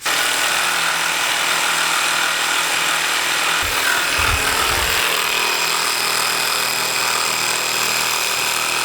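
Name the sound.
polishing walnut wood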